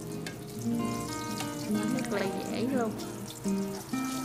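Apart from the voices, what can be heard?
eggplant in batter frying in a pan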